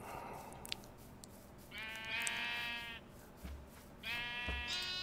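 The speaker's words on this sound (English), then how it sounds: "I've got this sheep who's in the wrong pen." Sheep in the video game TerraFirmaCraft bleat twice, each a loud, wavering call close by over a low ambient background, with a short pause between them.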